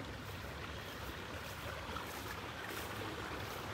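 Steady broadband rush of creek water flowing near a river-town bridge in Livingston, Montana, continuous and moderately distant with no talking.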